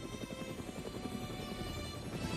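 A helicopter of the WWII-era artillery-support kind, its rotor thumping steadily and fairly faintly, heard alone and continuously without any voices.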